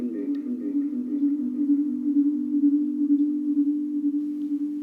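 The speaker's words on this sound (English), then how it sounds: "and this is the echo repetition rate" A PT2399-based echo and reverberation circuit sends out a steady, droning electronic tone that pulses quickly and evenly as the echoes repeat, moderately loud and alone.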